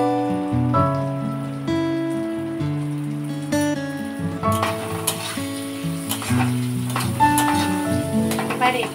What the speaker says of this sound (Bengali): দিয়ে দিচ্ছি লঙ্কা, কাঁচা লঙ্কা, আর দিয়ে দিচ্ছি পেঁয়াজ।